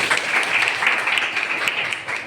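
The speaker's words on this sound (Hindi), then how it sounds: "ताली बजाएं इसके लिए" A class of students at a fire and safety course applauds, a continuous, fairly loud patter of many hands clapping together that tapers slightly at the end.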